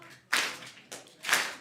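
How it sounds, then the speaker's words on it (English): Sharp hand claps ring out in a church service: two or three crisp, fairly close claps with short gaps between them, and no talk over them. "And good clap."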